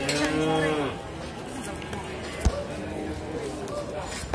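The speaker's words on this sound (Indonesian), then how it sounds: "Untuk rata-rata jenisnya adalah sapi simental." Simmental cattle calves give a loud, drawn-out moo near the start, followed by quieter barn ambience with a single sharp knock in a livestock pen at a calf market.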